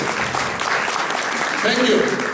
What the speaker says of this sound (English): please, we clap them because they are the missing heroes of these organizations